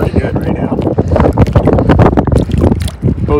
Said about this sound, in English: Wind's starting to pick up pretty good right now.